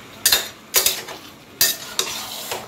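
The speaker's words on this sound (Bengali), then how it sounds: "এটাকে আমি ভালো করে এবারে কষাবো" Mutton and potato curry masala is stirred in a hot pan, giving five sharp scraping strokes of a utensil against metal over a soft, continuous sizzle, close and clear, with no talking.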